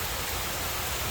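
Heavy rain falls steadily, a dense, even hiss of downpour with no breaks, loud and close throughout the short stretch.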